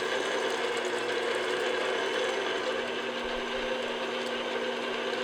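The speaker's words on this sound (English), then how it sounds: "add your chopped chocolate and your brown sugar here at this point. And I'm just going to beat this in." Electric hand mixer beating chopped chocolate and brown sugar into chocolate hazelnut biscotti dough, a steady whirring motor drone running continuously and fairly close, with no talk over it.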